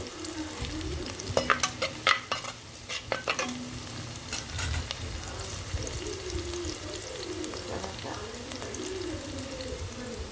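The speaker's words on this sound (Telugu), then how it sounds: "ఇవి కొంచెం వేగిన తర్వాత, ఆనియన్స్ వేగిన తర్వాత" Onions sizzle softly in a pan for a drumstick, potato and cashew curry, with a few sharper stirring clatters early on and a low hiss running beneath, while birds coo faintly nearby.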